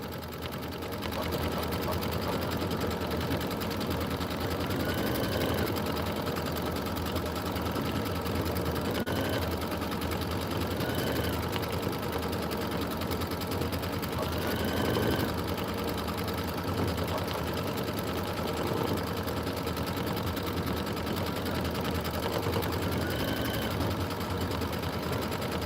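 An Aveneer Lumina sewing machine runs continuously while auto-stitching split quilt sashing, a close, even mechanical hum and rapid needle chatter lasting the whole time, with faint voices now and then.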